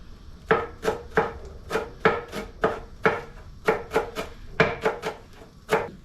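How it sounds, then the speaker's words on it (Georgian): Fresh dill chopped with a knife on a board for a mushroom stew, a close, even series of about fifteen crisp thuds in a steady rhythm, with no voices. "მანამდე დავჭრათ კინძი"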